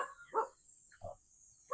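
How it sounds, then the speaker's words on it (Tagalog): Three short dog barks spaced apart, with quiet pauses between them, fairly close, at a rural house in the Bulacan mountains, San Miguel. "Medyo maingay yung mga aso"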